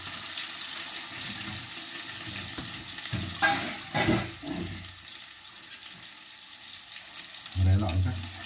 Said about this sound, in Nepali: यो लसुनको पातलाई पनि ब्राउन भइन्जेलसम्म मैले तेलमा पकाउँछु।